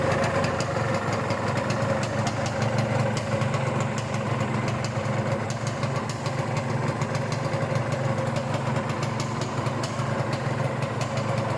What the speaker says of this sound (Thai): มีเสียงเครื่องขับนิดๆ เสียงเครื่องขับเนี่ย ก็จัดว่าดีฮะ